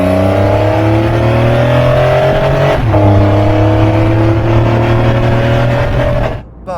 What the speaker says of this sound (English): You can hear the engine when you start driving behind you, of course it will be, it's a classic Porsche.